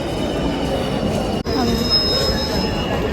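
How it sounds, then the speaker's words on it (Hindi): A metro train pulls in with loud, sustained high-pitched wheel squeal over steady rumbling rail noise, briefly broken by a sharp dropout before the screech resumes in a crowded station. "चलो वापस मेट्रो भी आ ही गई है"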